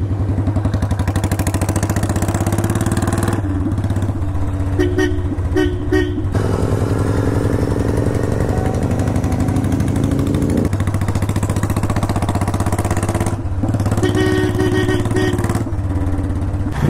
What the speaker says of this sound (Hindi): ये लो भाई ये आ गई बुलेट। बताओ गाइस कैसी लग रही है आवाज़ इसकी।